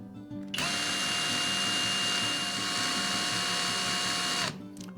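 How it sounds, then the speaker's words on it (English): A Skil 12-volt cordless impact driver runs at its low speed, a steady, loud motor whine that starts abruptly, holds evenly for about four seconds, then cuts off. "The Skil impact driver has a low speed of 1600 RPM."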